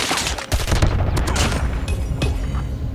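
Rapid bursts of Call of Duty Mobile gunfire crack in quick succession, loud and close, with sharp echoing shots.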